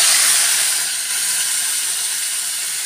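Onion paste poured into hot oil with cumin for egg curry, a loud, close, continuous hissing sizzle that eases slightly after the first second, with no voices.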